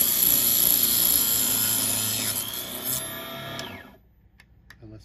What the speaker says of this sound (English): Put the piece of brass in there, pull it all the way back, turn the saw on.